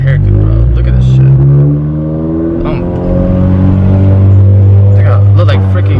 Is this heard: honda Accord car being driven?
yes